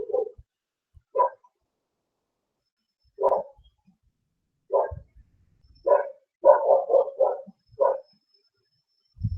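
A dog gives a series of short barks, several isolated and then a quick cluster of about five in a row, fairly close and moderately loud, with low thumps between them.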